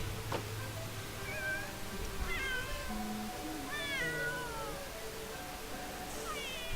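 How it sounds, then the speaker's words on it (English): Several meows from a cat in a video game, rising and falling calls spread across the stretch over steady background ambience, one clear cry followed by a run of higher wavering mews. "And there's a cat there."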